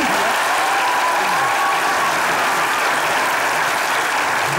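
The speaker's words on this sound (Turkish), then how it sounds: "Zile yakın bir alkıştı" An audience breaks into dense, even applause that stays loud and steady from start to finish, with no voices over it.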